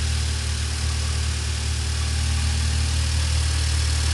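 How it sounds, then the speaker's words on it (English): A Prelude car engine idling steadily up close after rain, a constant low rumble with even vibration and no talking. "Idling pretty good."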